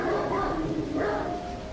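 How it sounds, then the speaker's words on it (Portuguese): A dog barks and growls as a story sound effect, a short burst of barking with a whimpering edge, close and fairly loud with faint background tone. "ele latia e rosnava ferozmente"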